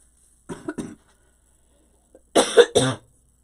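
Two separate coughing bursts, the first a quick double cough and the second a louder, harsher pair about two seconds later, with silence in between.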